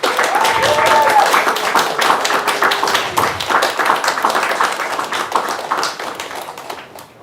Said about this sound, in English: I want everybody to give them another round of applause.